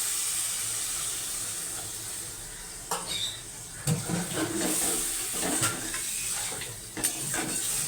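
Water goes into a pan of fried spice paste, setting off a steady hiss of steam, with a few clanks of a utensil against the pan partway through.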